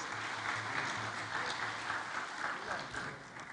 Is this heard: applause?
yes